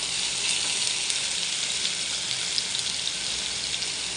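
Masala-coated boneless chicken with curry leaves frying in hot oil gives a steady, dense crackling sizzle that holds evenly throughout, close and alone without speech.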